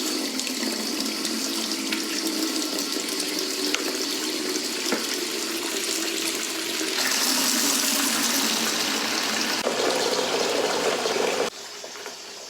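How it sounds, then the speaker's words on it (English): Tap water runs steadily into a sink of soapy water as jam jars are washed for making marmalade, a continuous close splashing wash with no voices. "first you want to wash your jars."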